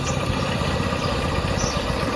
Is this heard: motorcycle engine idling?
yes